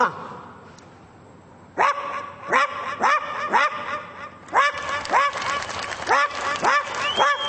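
A human voice imitates a poor household's dog barking, a series of rhythmic, throaty barks repeated about a dozen times at close range.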